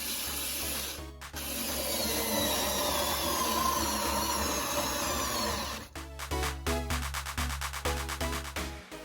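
A Xiaomi electric screwdriver driving a thick 2 cm screw: a brief whir, then a long steady grinding rub as the screw bites in, ending in a rapid series of ratcheting clicks.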